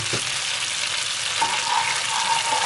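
Minced garlic frying in melted butter over medium heat, a steady close broadband sizzle with a brief stir near the start and a faint tonal hum joining midway, no voices.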